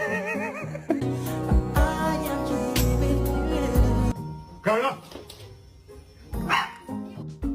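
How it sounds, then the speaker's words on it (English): A French bulldog vocalizes close by with a run of yips, whiny grumbles and short bark-like yelps in uneven bursts, with brief pauses between and people talking around it. "My Frenchie doesn't bark."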